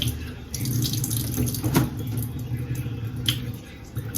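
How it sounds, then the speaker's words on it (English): Water drizzles from a kitchen tap while baked ziti with mini meatballs is being prepared, a soft steady trickle with a brief louder splash near the middle, close by. "just take a little drizzle of water"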